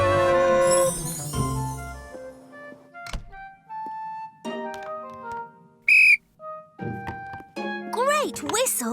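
A cartoon toy train's whistle blows amid bright tonal music and voices, with a short shrill toot standing out near the middle of the scene and other playful sounds around it.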